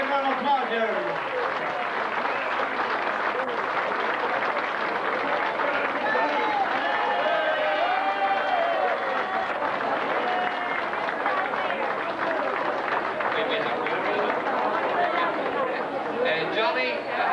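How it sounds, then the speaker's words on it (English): A crowd at a reunion claps steadily for a long stretch, the applause sustained and moderately loud under continuous chatter and a voice talking. "Johnny Gallagher, give a nice big round of applause there."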